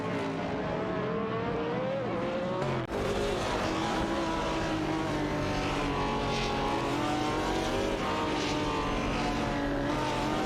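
Racing-game cars, a BRM P154 Chevrolet and a Nissan R382, scream at high revs with sweeping engine pitch shifts and gear changes, loud and continuous throughout.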